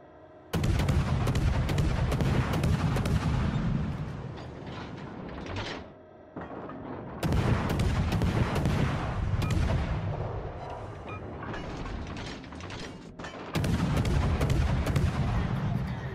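Naval guns on the USS San Diego, a Tier VII ship in the video game World of Warships Legends, fire in three long, loud rumbling salvos separated by brief lulls, with sustained booming and rolling reverberation after each.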